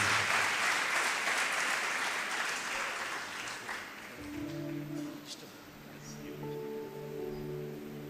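An audience gives loud, sustained applause to welcome Pastor Daniel Praneeth at a church gathering. The clapping lasts about four seconds, then fades out as soft musical tones take over.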